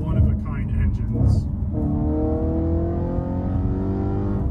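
Audi V8 engine in a quattro sports car, revving and then settling into a smooth rising drone with strong harmonic whine, loud and close, with someone speaking over the start.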